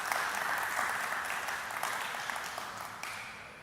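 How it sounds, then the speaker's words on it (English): Conference audience applauding the event's organizers, a distant, even wash of clapping that holds steady and slowly fades toward the end. "I'd like us all to give a big round of applause for the organizers of the conference"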